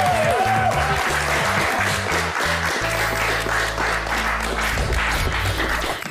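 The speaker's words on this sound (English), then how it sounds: "Did everyone a round of applause for Jack?" Applause for Jack, a boy pranked with a fortune teller setup, fills the room steadily and loudly, with a heavy low musical beat running beneath and some voices mixed in.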